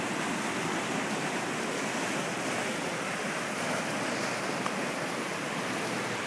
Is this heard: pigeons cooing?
no